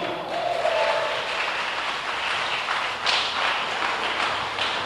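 A church congregation applauds together, a dense, continuous wash of clapping that holds steady for several seconds and swells briefly near the end.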